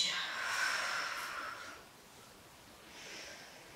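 A long, airy exhale during a vinyasa yoga session, a soft breathy rush lasting under two seconds, followed by a fainter second breath near the end, with no talking.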